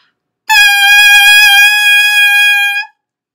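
A loud, steady, buzzy squawk held for a few seconds from a saxophone mouthpiece blown on its own, bright and reedy with no other sound.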